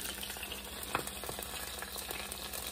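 Eggs fry in a covered pan, a soft, constant sizzle with faint crackles and one small clink, quiet and close, with no one speaking.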